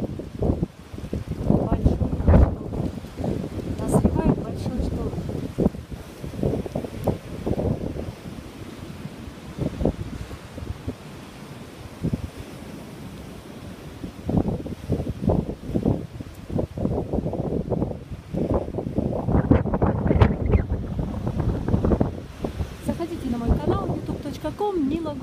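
November storm on the Black Sea at Gurzuf, Crimea: repeated crashing waves surge and break in irregular bursts while gusty wind buffets the microphone, with people talking over the roar.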